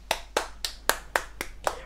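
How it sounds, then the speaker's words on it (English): Seven sharp hand claps at an even, unhurried pace, close and distinct with short gaps between them, alone with no voices. "Round of applause."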